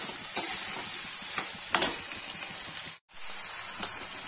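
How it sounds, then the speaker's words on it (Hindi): Potatoes and onions fry together in a pan for dry okra-potato curry, giving a close, steady sizzling hiss with a few soft stirring clicks and a brief pause near the end. "भिंडी के साथ आलू और प्याज भून लेंगे"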